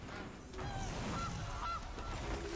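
A cartoonish goose honk sound effect from the Magic Arena digital card game plays twice in quick succession over a steady bed of game music and ambience.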